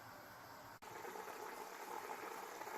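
Mutton yakhni broth simmering in a pot, a faint, steady bubbling and rolling boil heard alone at a distance, with a brief dip near the start.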